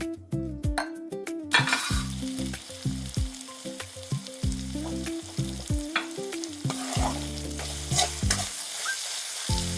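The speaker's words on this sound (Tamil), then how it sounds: "இப்போ இதை நல்லா கலந்து விடுங்க." Creamy chicken and mushroom being stirred and fried in butter in a pan, with steady sizzling and repeated utensil scrapes and clinks against the pan in an irregular rhythm, close and fairly loud, with no talking.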